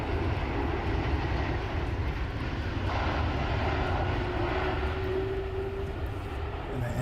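A Fenix A320 touches down smoothly in a flight simulator, a steady loud jet engine roar filling the whole stretch with a faint rising tone near the end and no voices.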